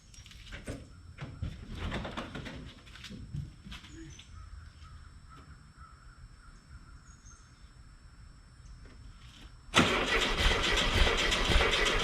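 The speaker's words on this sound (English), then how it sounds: "Just want to see if I can get it to crank." The Kharman project car's engine cranks in uneven bursts at a low level, then a loud sustained roar of starter or engine noise takes over near the end, close by.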